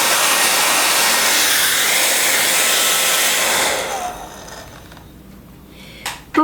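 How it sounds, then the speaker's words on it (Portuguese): Hair dryer blowing loudly and steadily at close range while drying a fabric-covered Christmas gift box, then switching off near the end, leaving quiet room noise and a couple of light knocks. "seca com o secador"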